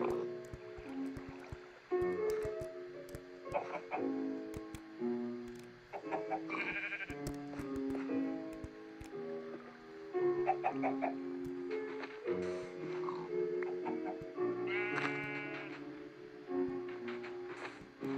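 Blocky sheep in Minecraft Skyblock bleat repeatedly over a steady bed of game music and ambient tones, several calls spread through the stretch at moderate loudness.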